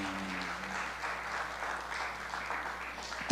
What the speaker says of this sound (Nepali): आफ्नै लागि तलै ताली बजाइदिनुहोस्